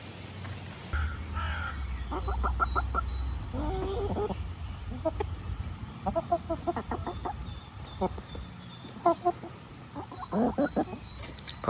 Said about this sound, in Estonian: Kanad on veits segaduses, mis asi see on siin?